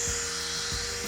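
A drill-mounted brush whirs against the carpet of a Ford F150 pickup, a steady high-pitched electric hum with a couple of brief low thumps as it scrubs, close and alone.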